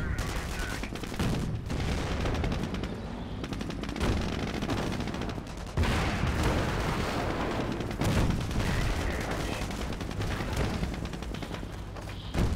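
Company of Heroes battle: an anti-tank gun and heavy gunfire pound away in dense, continuous volleys of machine-gun bursts and booming cannon shots, loud and close, with a brief lull around the middle before the barrage resumes.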